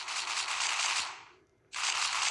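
Gunfire in the stickman zombie-shooting game Stickman And Gun 3: a fast, steady stream of rapid shots that fades, stops briefly, then resumes just as dense, without talk.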